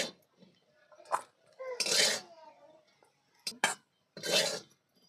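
Metal cooking pot clattering and scraping as it is lifted off a stove while cooking greens with potatoes, a few sharp clinks and clanks close by, mixed with someone talking quietly.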